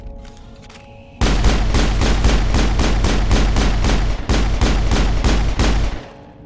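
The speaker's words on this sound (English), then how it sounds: "Observe the accuracy I have with a shotgun" Shotgun fire in the Mass Effect video game, a rapid run of loud, evenly spaced blasts after a quieter start, ending abruptly.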